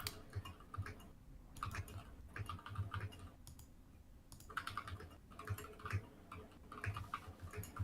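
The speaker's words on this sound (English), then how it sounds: "I can hear everything you're typing." Rapid clicking of keys on a computer keyboard, quiet and close, in uneven bursts of typing with short pauses.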